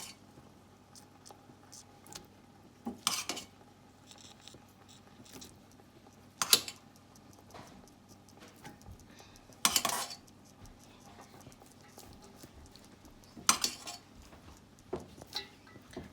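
Fried rice with pot roast chicken and vegetables is mixed in a pan over low heat. Sparse utensil clinks and scrapes come in a few short bursts over a quiet background.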